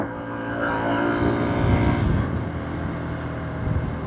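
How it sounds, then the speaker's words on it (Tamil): A motorcycle engine labours in a higher gear on a high mountain road near the Indo-China border, giving a low, steady, strained drone with little revving, close and continuous without talk. "அடுத்த கியர் போட்டாலே அப்படியே உட்காந்துட்டு பாருங்க வண்டி. பவர் இல்லை."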